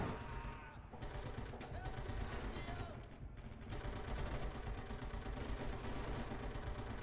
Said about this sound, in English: Oh no, artillery, get inside.